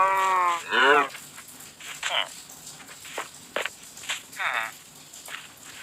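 A cow in the video game Minecraft moos twice in quick succession at the start, loud and close, followed by scattered short game sounds.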